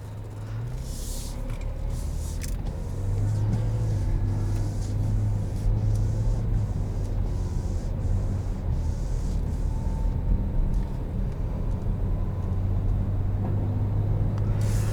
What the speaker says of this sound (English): let's take it out on the road. Driving it in sport mode.